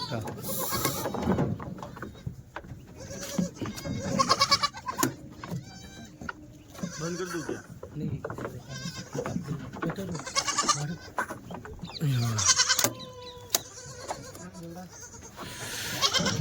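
Kathiawari goats bleat repeatedly, several wavering calls overlapping nearby, with people talking and faint bird sounds mixed in.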